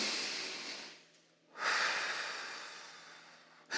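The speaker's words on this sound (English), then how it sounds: "Take a deep breath in." A deep breath drawn in and let out during a calm focus exercise, a long airy inhale and exhale close to the microphone, repeated with a brief pause between, no talk.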